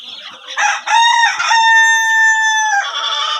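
A rooster crows loudly and close at a poultry farm in Taraganj, Rangpur, its long drawn-out call rising over clucking chickens, with more clucks following at the end.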